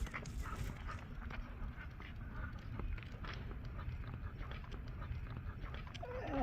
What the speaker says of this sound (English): now you're gonna bark at the doggy?